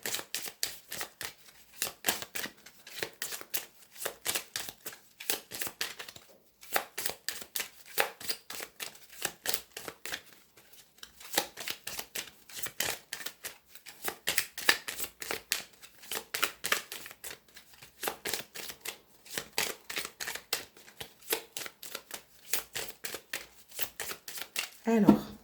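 Petit Lenormand cards are shuffled in repeated close, crisp riffling bursts with brief pauses between runs, continuing steadily for a long stretch without talk.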